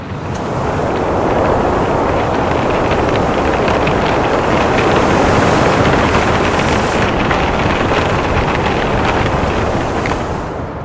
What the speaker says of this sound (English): It was unbelievably windy, and it still is.